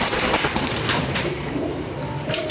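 Pigeons coo softly amid a brief burst of wing flapping and bird sounds, at moderate distance with no voices.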